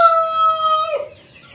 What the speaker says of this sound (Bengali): অনেক মুরগি অনেক মুরগি। টাইগার, এই যে টাইগার, এটা মোরগ